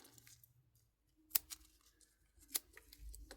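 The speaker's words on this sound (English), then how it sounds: "And then I just cut the excess off." Scissors snipping off excess material while making a resin desk clock from a coaster mold, heard as two sharp, close snips separated by quiet moments.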